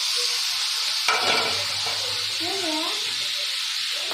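Ridge gourd sizzles and fries steadily in a hot pan, a continuous crackling hiss with a louder burst as pieces go in, while a voice speaks briefly over the cooking.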